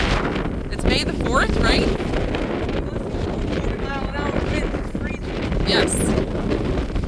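Wind gusts buffet the microphone outdoors on a farm during gopher trapping, a continuous loud low rumble throughout, with people talking over it.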